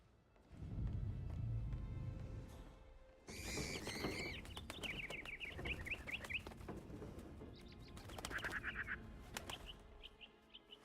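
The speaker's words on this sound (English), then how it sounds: "Man, the birds don't like me." In the game Hitman III, a flock of birds bursts up and flaps away: a loud rush of wingbeats, then chirps and squawks scattered over several seconds, fairly close.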